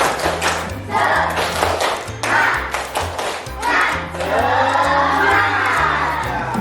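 Schoolchildren in a fifth-grade maths class perform a spirited clapping chant, loud shouted unison voices over a steady pattern of claps and stamped beats, close and energetic throughout.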